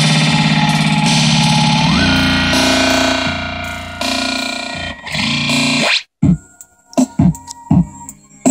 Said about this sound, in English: The delay lasts a very long time. And then you can peel it back in.